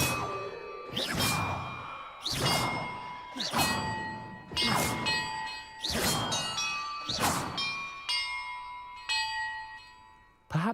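Bells rung in sequence during a puzzle in Hogwarts Legacy: a series of bright, resonant clangs struck roughly once a second or more apart, each ringing out and decaying before the next, alone and close.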